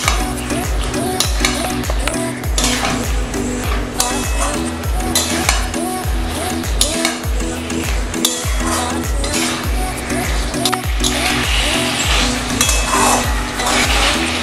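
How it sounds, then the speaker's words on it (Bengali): Pointed gourd and shrimp sauté in a pan with a steady close sizzle, while a utensil scrapes and clinks against the metal in a repeated stirring rhythm. "5 থেকে 10 মিনিট মতো ভালো করে প্রথমে কষিয়ে নেব"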